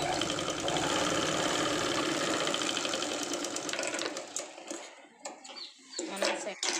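A sewing machine stitches a Punjabi dress top in a steady, loud, continuous whirr for about four seconds, then slows and stops, leaving light handling clicks and taps.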